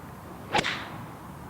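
A single sharp swish and thwack as a golf club strikes a ball off grass, brief and fairly close over a steady outdoor hiss.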